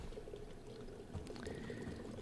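Water trickling and pouring from a water cooler inside a space station in the sci-fi game Prey, a steady low wash of liquid with a faint rising tone near the end.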